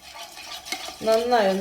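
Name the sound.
stirring yeast, sugar and warm water mixture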